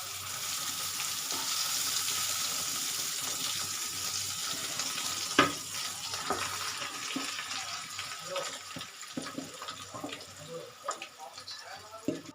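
Cumin, carom seeds, asafoetida and turmeric crackle in hot oil for a Gujarati batter tempering, a steady sizzle with a sharp clink midway and a few faint knocks toward the end.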